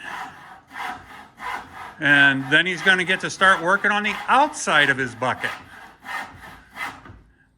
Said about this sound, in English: So now he's sawing it.